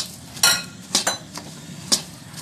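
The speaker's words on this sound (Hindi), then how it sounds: "अब हम इसमें ये जो हमने मखाने भून के रखे हैं ये मिक्स कर देंगे।" Roasted makhana (puffed lotus seeds) stirred into hot, glossy jaggery syrup in a pan, giving a few separate scraping, clinking spoon strokes against the metal over a faint background hiss.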